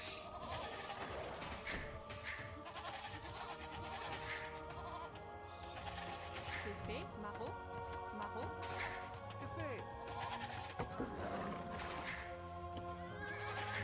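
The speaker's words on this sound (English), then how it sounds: "more goats" Goats bleating among the animal and ambient sounds of an Age of Empires 2 match, with horse-like neighs, hooves, and game music running throughout, under a voice talking.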